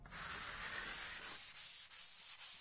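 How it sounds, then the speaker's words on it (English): Sandpaper rubbing dried filler on a primed tile surface, a close, soft scratchy rasp in a few strokes with short pauses between them. "Rub with sandpaper"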